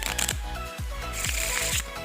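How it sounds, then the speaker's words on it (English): A deck of playing cards is riffle shuffled during a close-up card trick demonstration, giving repeated fluttering bursts of riffling with soft taps and squares of the deck in a steady rhythm. "I'm going to mix them by the riffle shuffle."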